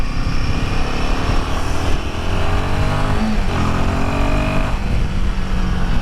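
A Royal Enfield Himalayan 450 motorcycle engine revs and accelerates on a test ride, a loud close drone rising in pitch through gear shifts, with no talking.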